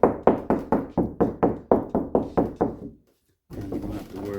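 Knuckles rap about a dozen times in a steady rhythm on a hollow interior door patched over a large hole, each knock a close, hollow thud, followed by a brief silence and then someone talking.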